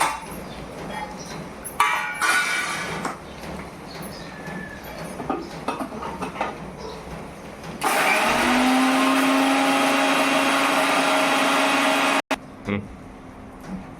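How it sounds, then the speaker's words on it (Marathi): A mixer grinder roars at full power for several seconds grinding red pumpkin, then cuts off abruptly; before it, rustling and clattering kitchen sounds with some talk. "आता आपण हे मध्ये सर्व बारीक करून घेऊ चांगलं व्यवस्थित बारीक करायचं"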